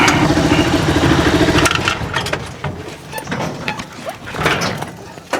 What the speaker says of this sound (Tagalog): kung narinig ninyo ay tagtagan yung cover niya